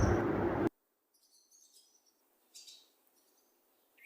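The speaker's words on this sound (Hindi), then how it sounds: "सुबह सुबह के टाइम जो है ना ये जो चिड़ियों की आवाज़ है ये मुझे बहुत ही अच्छी लगती है" Morning birdsong in a village: a few faint, brief chirps scattered at a distance after a short burst of louder noise at the start, otherwise quiet.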